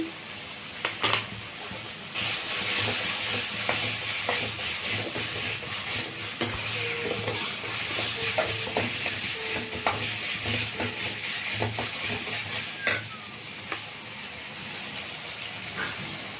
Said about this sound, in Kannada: ಈಗ ಒಂದು ಸ್ಪೂನು ಶುಂಠಿ ಬೆಳ್ಳುಳ್ಳಿ ಪೇಸ್ಟ್ ಹಾಕ್ತಾ ಇದ್ದೀನಿ